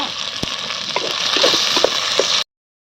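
Chopped tomatoes hit hot oil in a frying pan while biryani masala cooks, giving a steady sizzle with a few sharp splatter pops that stops abruptly near the end.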